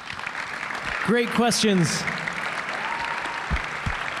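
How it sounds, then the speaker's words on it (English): A crowd keeps up a steady round of applause for basketball player Jae Crowder at a summer event, while a voice speaks briefly over the clapping. "One more round of applause for Jae Crowder"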